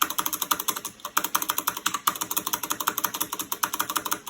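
Mechanical keyboard with silent switches being typed on, with the shift key stabilizers tested: a steady, fast run of soft, muted key clacks close up.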